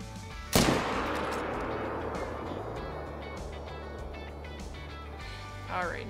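A single loud rifle shot at a lion in the hunting game Call of the Wild, savanna setting, a sharp crack with a long rolling echo that fades over several seconds, followed later by a faint distant sound.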